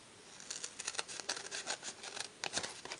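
Hand snips cut through two layers of cardstock in a quick series of crisp, close clips and crunches. The sound is fairly quiet and heard alone.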